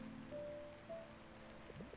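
Steady soft rain in the video game Until Then, a faint continuous patter with brief tonal game sounds over it and no speech.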